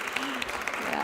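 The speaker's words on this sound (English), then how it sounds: "let's quiet them down by giving them a nice round of applause" Brief burst of audience applause at a church gathering, continuous clapping under a faint background of voices.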